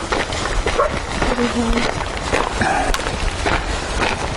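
A dog on a hiking trail in Valhalla park, British Columbia, gives a few short barks and whimpering yips among outdoor noise, while a person speaks nearby.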